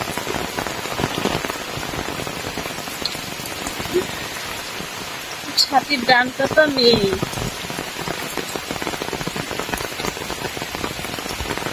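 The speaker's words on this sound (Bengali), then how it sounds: "দেখো কত জোরে বৃষ্টি পড়ছে" Heavy afternoon rain pours onto a home courtyard where water has pooled, a dense, loud, steady patter throughout, with a voice speaking briefly over it.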